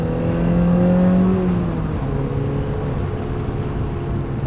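A Mazda NC Miata engine fitted with a Track Dog Racing intake revs up with a rising tonal whine and then settles to a steady hum, moderately loud and alone.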